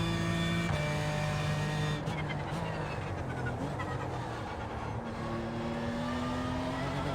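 Race car engine in iRacing at Monza, a steady loud tonal drone with shifting pitch as the car revs and changes gear, continuous throughout with no talk.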